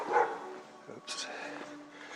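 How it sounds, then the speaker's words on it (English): A dog barks on an outdoor walking trail, a short bark or two heard at moderate distance, with a person talking over it. "Some other dog got woken up."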